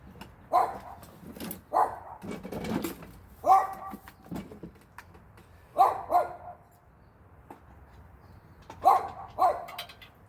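A dog barks in short, separate bursts several times at close range, with a few whimpers mixed in, beside a Husqvarna HU800AWD mower being worked on.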